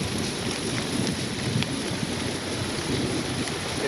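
Heavy rain hammering down during a severe storm with hail at Atlanta Hartsfield-Jackson Airport, a dense, steady hiss and patter, loud and unbroken for a few seconds.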